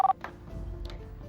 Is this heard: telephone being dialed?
yes